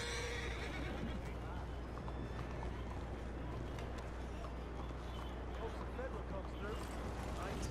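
A horse whinnies in Red Dead Redemption 2 as its gear is removed and it is set loose, the call fairly faint beneath steady outdoor game ambience, with someone talking over it.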